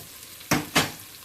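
Celery and sweet peppers drop into a hot pot for Caribbean pumpkin soup, giving two quick, close sizzling bursts about a quarter second apart over a faint background hiss.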